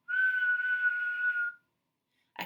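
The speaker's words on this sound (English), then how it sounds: "You set it on the stove, and when the water gets hot inside, it starts to whistle." A stovetop kettle gives one steady, shrill single-pitch whistle lasting about a second and a half before cutting off, followed by silence and a short faint click.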